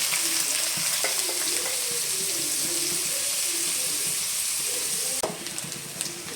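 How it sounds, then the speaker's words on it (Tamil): Onions sautéing in oil in a pan for egg masala, giving a continuous loud sizzle with scraping stirs throughout. A sharp clatter sounds near the end, after which the sizzle softens. "வானல் வச்சு எண்ணெய் தேவையான அளவு ஊற்றிக்கிட்டேன். வெங்காயம் கொஞ்சம் வதக்குவோம்."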